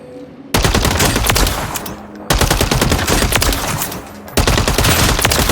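Gunfire from a gun in the video game Warzone 3 comes as three long, loud automatic bursts, close and relentless, each separated by a brief pause.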